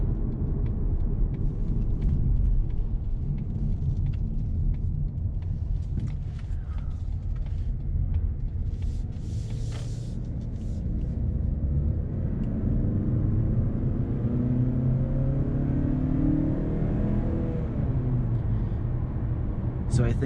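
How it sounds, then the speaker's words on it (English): A 2019 Mazda3 sedan accelerates from inside the cabin, a low engine and road rumble that rises as it gathers speed, with a voice talking over it. "We'll get another acceleration."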